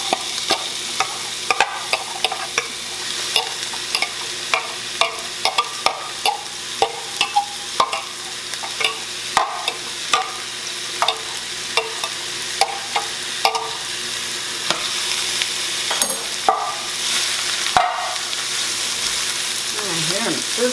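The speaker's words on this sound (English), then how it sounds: "Now we're going to put in all of our gorgeous onions here." Onions frying in melted fat and a little olive oil in a pan, a steady crackling sizzle with frequent sharp pops and stirring scrapes throughout, close and fairly loud.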